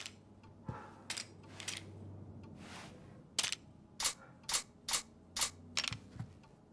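Pistol shots from the Mafia remake, a quick series of sharp, dry cracks, about eight in all and mostly in the second half, fairly faint over a low room hum, with no talk.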